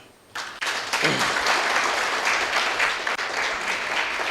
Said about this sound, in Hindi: सब के लिए एक बार ताली बजा दो।